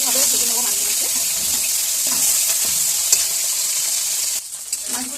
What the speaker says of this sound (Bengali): সুন্দরভাবে ভেজে নেবো মাছগুলোকে।